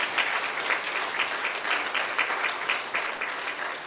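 Congregation applauding at a Sunday church worship service, a dense, steady wash of many hands clapping together for about four seconds with no voices over it.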